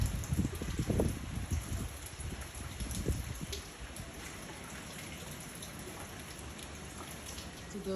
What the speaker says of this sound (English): The rain is beating the papaya tree.